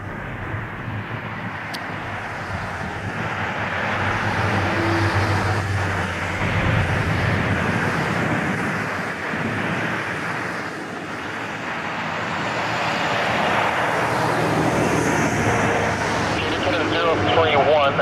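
An airliner takes off from runway 05 at Toronto Pearson airport, a loud, steady jet engine roar that swells and holds near the observer for the whole span, with the rumble of road traffic mixed underneath.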